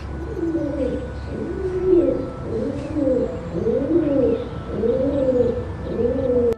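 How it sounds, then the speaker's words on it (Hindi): A pigeon coos over and over in a steady, throaty rhythm, close and clear against a faint background hum. "गुटरगु करता मस्ती में रहता"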